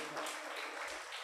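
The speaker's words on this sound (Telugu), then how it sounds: "చప్పట్లు కొట్టి దేవుడికి వందనాలు చెల్లిస్తారా?" Church congregation clapping in praise to God, a faint, dense patter of many hands over a short stretch, soft and distant.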